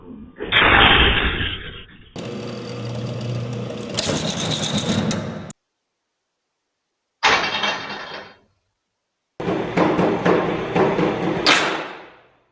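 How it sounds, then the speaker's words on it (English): A garage door torsion spring snaps with violent, explosive bangs and harsh metallic clatter, several loud bursts separated by sudden silences, close and very loud. "That loud explosion you're hearing? That's hundreds of pounds of stored tension releasing instantly."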